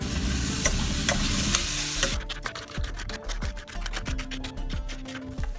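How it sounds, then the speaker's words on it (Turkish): Onions sizzle and crackle steadily in hot olive oil in a pot, close by, joined partway through by stirring scrapes and clinks against the pan. "Zeytinyağı gezdirip kavurmaya başlayalım."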